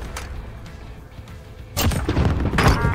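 A rocket blast in the shooter game Warzone lands as a sudden loud boom partway through, followed by rumbling debris and further impacts over quieter background battle noise.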